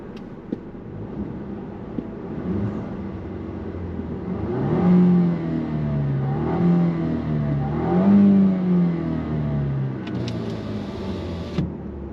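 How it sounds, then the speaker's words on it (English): A 2-litre turbo petrol engine in a Jaguar XE revs up and eases back several times, a low rising growl up close, steady idle between the swells. "the petrol engine itself does sound okay"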